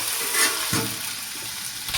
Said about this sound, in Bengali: দিয়ে একটু ভেজে দেবো।